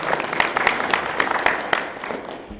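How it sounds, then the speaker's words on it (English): A junior high spelling bee audience applauds the word reader, a brief, dense burst of clapping with sharper individual claps poking through, fading toward the end with some talk mixed in. "So a round of applause for Mr. Villaringo."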